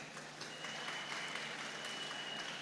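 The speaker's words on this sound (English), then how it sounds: "Ladies and gentlemen, please put your hands together for Miss Ellington." Applause from the audience at a youth agriculture symposium, faint and somewhat distant clapping that holds steady, with a thin sustained tone in the room.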